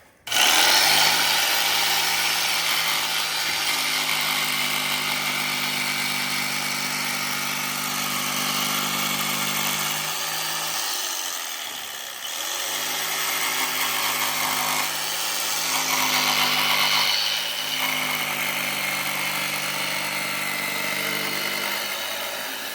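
Power saw running steadily as it cuts notches into deck boards on a new deck over I-beams, loud and continuous with a brief dip in load near the middle before resuming.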